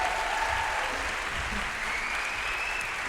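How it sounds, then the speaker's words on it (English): At the World Environmental Education Congress 2015, an audience applauds in a continuous, even wash of clapping, moderately loud, with faint murmuring underneath. "Give him an applause and the rest,"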